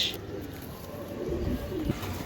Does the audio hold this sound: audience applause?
no